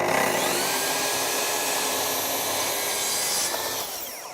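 Saw cutting a wood piece for a table-top planter box, a steady loud rasping cut that runs continuously for about three and a half seconds before easing off.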